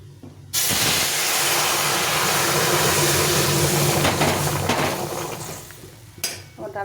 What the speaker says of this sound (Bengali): আজকে মসুরি ডাল রান্না করছি রাঁধুনি ফোড়ন দিয়ে এখন ডালটাকে ঢেলে দেবো